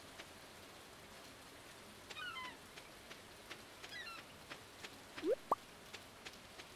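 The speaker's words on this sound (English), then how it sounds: "The music doesn't play on rainy days, and you just hear the rain everywhere you go." Rain ambience in the Stardew Valley game with no music: a soft steady patter of falling rain with scattered drips and plops, plus a few faint chirps and short sliding tones.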